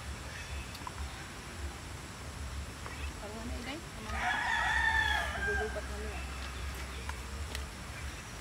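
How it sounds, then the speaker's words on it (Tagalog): A rooster crows once at mid-distance on a rural farm, its call rising over steady low background hum and faint chatter. "May manok ba?"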